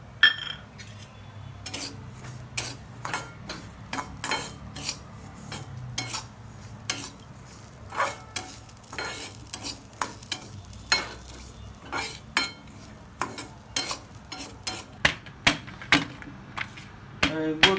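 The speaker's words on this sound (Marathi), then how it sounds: "हे चांगलं असं भाजू द्यायचंय, लालसर होऊस तर." Semolina and dry fruits roast in a pan for jaggery lapsi while a spoon stirs steadily, each scrape ringing as a sharp metallic tick against a soft, continuous sizzle.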